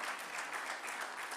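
Brief burst of audience applause at a town meeting, a dense steady patter of many hands, fairly close and continuous with no voices over it.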